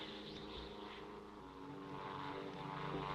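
A propeller aircraft drones overhead, a faint, steady engine hum with a throbbing low buzz that holds evenly throughout.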